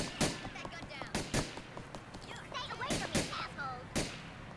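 Gunshots in GTA IV crack out as sharp, loud single shots, about eight of them spaced irregularly over a few seconds, with a voice talking between the bursts.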